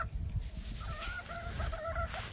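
Gamefowl chickens cluck in a farmyard with short, repeated, tonal calls, moderately close over a low, rumbling background.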